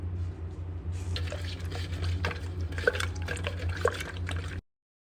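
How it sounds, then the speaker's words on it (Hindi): Water poured and stirred into a homemade tamarind drink, imli ka sharbat, with liquid splashes, drips and clinks repeating steadily over a low hum for several seconds before cutting off. "तो इसके बाद मैं इसे मिक्स करती हूँ और बाकी इसमें पानी डाल देती हूँ"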